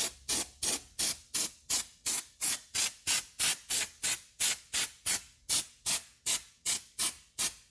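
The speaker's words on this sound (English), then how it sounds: "spray it with some white lithium grease" White lithium grease sprays from an aerosol can onto a car hub during a front brake job on a 2018 Hyundai Elantra, in about twenty short, sharp hissing bursts at a quick, regular rhythm.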